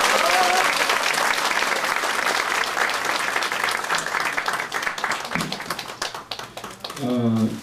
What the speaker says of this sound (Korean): 정말 뜨거운 박수 부탁드립니다.